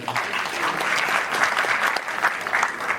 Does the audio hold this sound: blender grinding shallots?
no